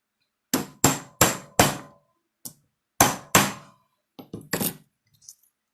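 A hammer strikes copper sheet in a metal dapping block, about a dozen sharp metallic blows in uneven clusters with ringing decay and clear silence between hits.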